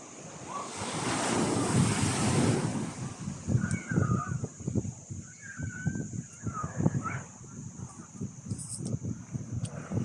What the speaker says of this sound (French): les vagues sont infernales ici